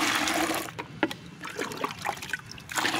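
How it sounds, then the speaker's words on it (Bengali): Water is poured and stirred into plant fertiliser to thin it for petunias, with soft trickling and sloshing close by in short, uneven bursts. "জল নিয়ে পাতলা করে মিশিয়ে নিতে হবে"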